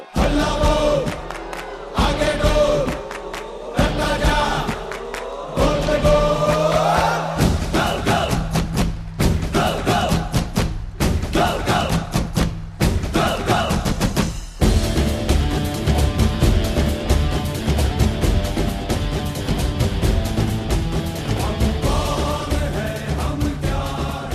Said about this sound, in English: We would like to invite Mr. Baichung Bhutia with a huge round of applause.